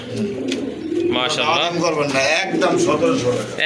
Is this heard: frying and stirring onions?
no